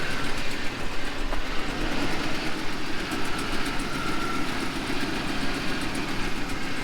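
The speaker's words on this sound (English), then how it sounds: "It's got a really bad exhaust leak." A Ram 1500 pickup engine running with a bad exhaust leak, giving a continuous loud, rough rumble with a raspy, hissing edge that stays steady throughout with no speech.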